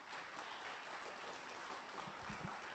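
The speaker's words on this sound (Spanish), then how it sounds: "Fuerte aplauso para el maestro Vicente López Velarde" Faint, distant applause from an audience for maestro Vicente López Velarde, a steady even wash of clapping with a few closer claps near the end.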